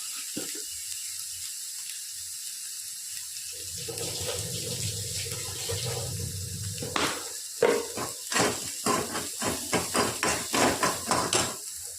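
Tap water runs into a kitchen sink while curry leaves are washed, a steady splashing stream that gives way to a series of sharp clinks and knocks of utensils or vessels.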